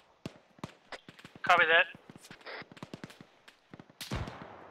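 Sharp weapon reports ring out in the Arma 3 Desert Ghosts campaign, with scattered close shots and a burst of rapid fire, then a heavier boom near the end, while a voice talks briefly over the radio.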